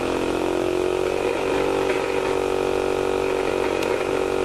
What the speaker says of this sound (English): The motor is now connected to the circuit and it spins.